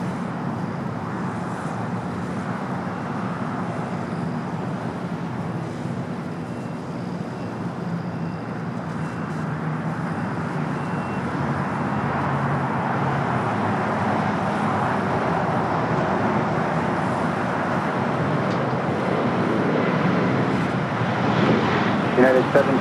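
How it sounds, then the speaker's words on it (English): An Air Canada Airbus A220-300 takes off from LAX's south side, its jet engines building to a broad, steady roar. Wind buffets the microphone and a voice talks over the noise. "Next takeoff here on the south side, Air Canada Flight 557 heading to Vancouver, an Airbus A220-300"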